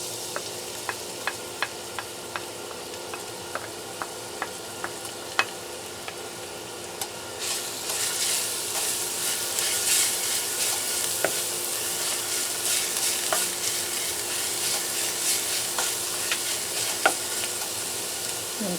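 Garlic sautéing in oil for beef caldereta gives a low sizzle with light ticking spatters at first, then a brighter, fuller hiss with occasional clinks of a utensil; no voices.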